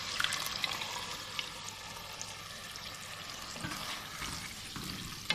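Chicken sizzles steadily in a pan after ground green masala is added, a continuous close crackling fry with occasional stirring scrapes and small pops, with no voices.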